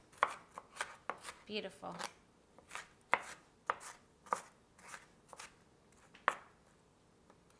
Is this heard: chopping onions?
yes